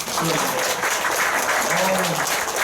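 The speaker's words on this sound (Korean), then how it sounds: "여러분 박수, 박수." Applause from a lecture audience at a company and product seminar, a dense steady patter of many hands filling the room, with a voice speaking over it.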